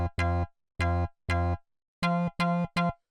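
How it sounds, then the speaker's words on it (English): Seven bright plucked synth notes through a resonator, with a ringing metallic, resonant tone, played in a short uneven pattern with brief gaps of silence between them. "the resonator is giving it this really cool sort of futuristic, like metallic sort of texture."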